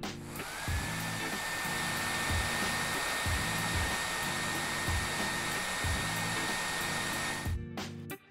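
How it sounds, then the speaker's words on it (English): A hair dryer blows steadily and loudly at close range, with a constant whooshing airflow and a high motor whine, while repeated soft taps sound underneath as a skin is pressed onto a Samsung Galaxy A50 phone; the dryer cuts off near the end. "use the hairdryer at the bottom."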